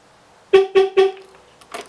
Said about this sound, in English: hold it down, you'll hear 3 beeps.